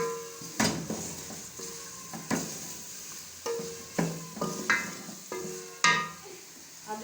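Whole black pepper, cloves and small cardamom frying with tomatoes in a pot, a soft sizzle under repeated clinks and scrapes of a spoon stirring against the metal, about eight irregular strikes.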